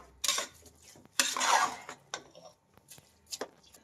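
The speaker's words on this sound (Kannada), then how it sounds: "ಮಿಕ್ಸ್ ಮಾಡಿ ಮಸಾಲೆ ಜೊತೆ ಅಕ್ಕಿನ." Washed rice is stirred with masala in a pot, giving close, intermittent scraping and clinking of a spoon against metal in irregular bursts, with quiet gaps between strokes.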